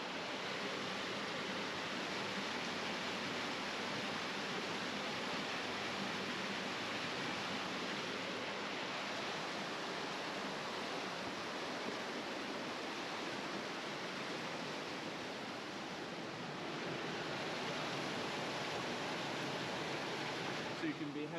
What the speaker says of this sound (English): you have the water running beneath you there.